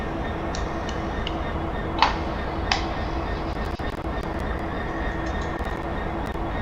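A train in a Great Western express train-simulator game rumbles along steadily with a rhythmic ticking of wheels, plus a couple of sharper clacks early on.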